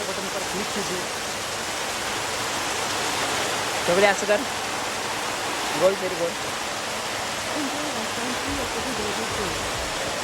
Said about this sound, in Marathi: अजून जोरात आला आहे पाऊस